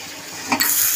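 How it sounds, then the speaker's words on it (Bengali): Bori lentil dumplings frying in hot oil, a steady sizzle that swells into a louder, brighter hiss as the pieces are stirred, close and with no talk. "তেলের মধ্যে এবার আমি বড়িটাকেও ভেজে নেব"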